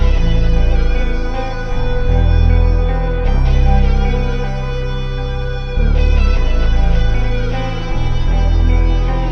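A synth melody loops over a layered, full low bass that slides down in pitch at the end of each phrase, loud and dense with no voices.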